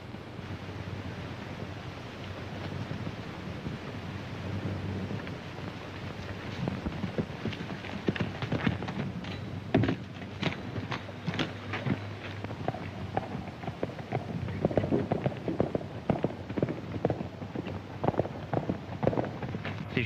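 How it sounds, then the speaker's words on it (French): A horse gallops on open ground in an old ranch western, rapid hoofbeats growing louder and more distinct under wind noise and a steady outdoor rush, no voices. "C'est le cheval de Dusty."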